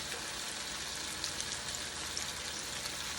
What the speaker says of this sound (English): Move this over for it to fry a little.